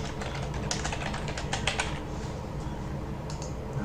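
Typing a search query on a computer keyboard, with a steady run of close, crisp key clicks arriving in quick irregular bursts and a few short pauses.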